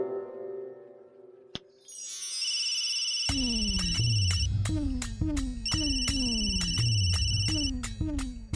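A telephone rings in a domestic TV-serial scene: a musical ringtone with repeating bright tones and descending chimes, loud and close, following a soft earlier click and quiet background.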